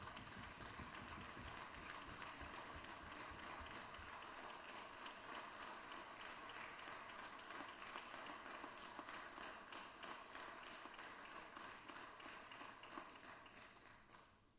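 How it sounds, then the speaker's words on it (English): A round of applause fills the Senate chamber during a legislative session, a steady, dense patter of many hands clapping at moderate distance, sustained for several seconds before gradually tapering off. "Let's give the Senator of the 19th a round of applause for all the hard work that he did right there."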